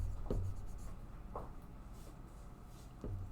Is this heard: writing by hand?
yes